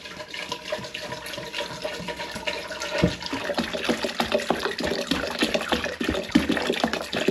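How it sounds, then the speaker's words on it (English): Hot wine must pours from a demijohn into a pan, a steady splashing, gurgling stream of liquid that runs for several seconds with small bubbling bursts, close and moderately loud. "wine must, and I'm going to pour it into the pan."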